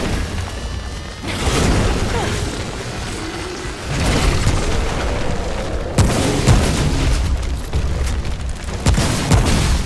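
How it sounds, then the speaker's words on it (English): Repeated spore bomb explosions from the Ent boss fight in the game Remnant: From the Ashes, heavy booming bursts landing every couple of seconds over a dense, continuous rumble of battle noise. "Here comes the Ent Spore Bomb attack again"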